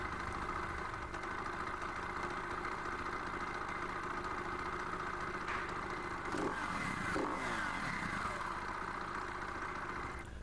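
A Husaberg motorcycle engine from the 2000 model year runs steadily at high revs, a loud, continuous mechanical drone that holds near and constant, with a brief rise in intensity partway through.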